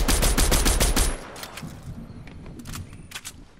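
Gunfire in the Fortnite video game: a rapid burst of close, loud automatic shots for about a second, then scattered fainter shots and clicks that trail off.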